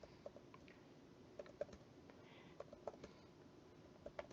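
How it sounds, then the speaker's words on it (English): Data being typed on a computer keyboard for a spreadsheet, with scattered soft key clicks at an irregular pace, quiet and close, and no talking. "Then I'll finish typing in the data that I have."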